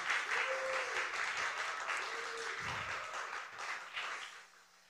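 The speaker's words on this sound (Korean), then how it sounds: "박수." Church youth and college congregation applauding after a short introduction during a Sunday service, a steady wash of many hands clapping together, moderately loud, that gradually thins and fades out toward the end.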